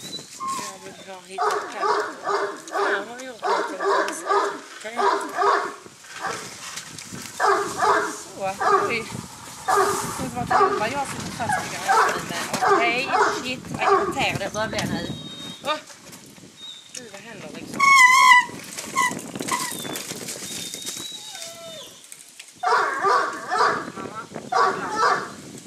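A small pet dog barks and yips in short bursts at close range, mixed with whimpers, while someone talks over and between the barks in a home setting.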